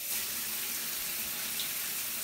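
Water streams steadily from a Moen shower head, a close, even hiss with no break.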